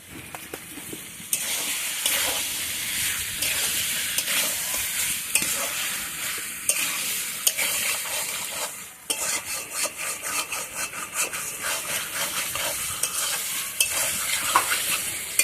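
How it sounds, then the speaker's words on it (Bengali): Chicken in yogurt fries and is stirred in a pan, giving a loud, continuous sizzle and hiss with frequent scraping and clinking of a spoon against the metal. "এবার খুব ভালো করে এটা কষাবো।"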